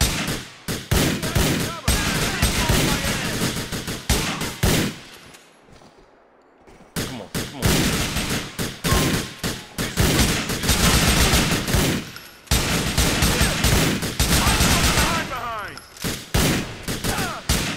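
Dense bursts of automatic gunfire crackle through a shooter video game, loud and near, in rapid volleys with a brief lull midway before the shooting resumes.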